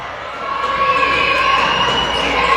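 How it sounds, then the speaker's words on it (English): A college women's basketball crowd, Cochise College Apaches versus Arizona Western Matadors, swells into steady cheering and shouting in the gym, rising in loudness across the moment, with a commentator talking over it. "The crowd's starting to come to life."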